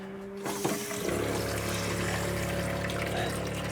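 Water runs steadily from a boat's tap with the hot-water tank bypassed, flushing the tank lines after de-winterizing, a continuous close rushing flow that starts after a short knock and holds without a break.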